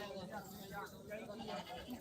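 Goats bleat in short wavering calls close by at a goat market in Tungwali, Punjab, mixed with nearby human voices and a steady background murmur.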